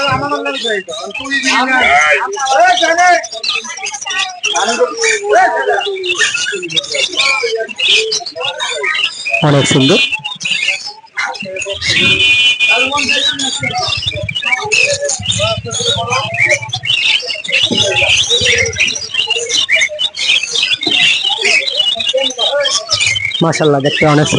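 Crowded Mirpur bird market in Dhaka, many caged birds chirping and tweeting continuously at close range, with pigeon coos in the mix and people talking loudly throughout.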